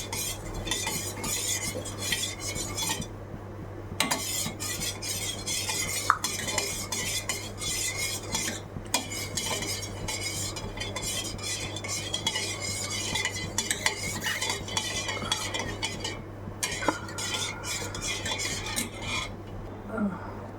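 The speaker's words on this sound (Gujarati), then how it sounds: "આ રીતે આપણે ખાંડ ગરમ કરીએ. ખાંડ ઓગળી જાય પછી આપણે લોટ બાંધીશું." Sugar being heated and stirred in a pot until it dissolves, a spoon scraping and clinking against the metal in steady, repeated strokes over a low hum, close by, with no talking throughout.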